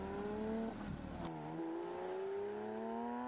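A Porsche 992 GT3 with a six-speed manual pulls away: a loud engine note rises, breaks off sharply for a gear change, then climbs steadily again, heard from inside the car with no talk.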